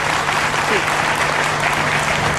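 Steady welcoming applause from a crowd at a religious Gou Katha gathering, a dense, even clatter of hands over a low hum, with a brief voice rising through it.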